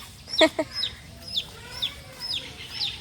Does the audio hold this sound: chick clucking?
yes